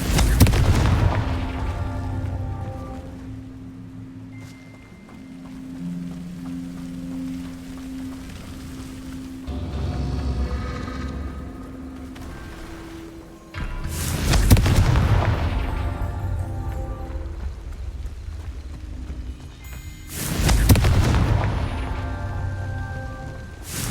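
Confringo spells cast in the video game Hogwarts Legacy go off as two big booming explosions, each with a sharp onset and a long rumbling decay, separated by quieter game ambience and softer thuds with faint musical tones.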